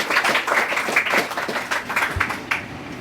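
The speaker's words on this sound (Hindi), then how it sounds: "ताली बजाओ भाई।" Audience clapping at a student honour ceremony for toppers at a coaching class, a dense steady patter of many hands filling the room from start to finish, with a few sharper claps standing out and no talk over it.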